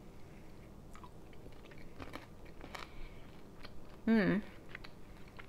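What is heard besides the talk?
chewing a bite of chicken and pepperoni pizza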